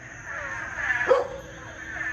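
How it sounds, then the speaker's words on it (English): A dog named Bo gives a single short bark at night outdoors, fairly close, rising above a steady background chorus of calling frogs. "Bo doesn't like it. You can hear him barking."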